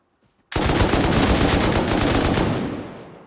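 An AK rifle in a video game fires one long, loud burst of rapid automatic shots that lasts about two seconds, then trails off into a fading echo, with no talking.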